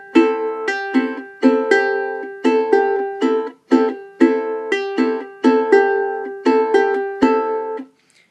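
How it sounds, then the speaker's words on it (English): Basic two-bar Bossa Nova fingerstyle pattern on guitar, plucked chords and bass notes repeating in a steady syncopated rhythm, close and clear with no talk. "a video tutorial for a basic Bossa Nova finger-picking pattern, which sounds like this."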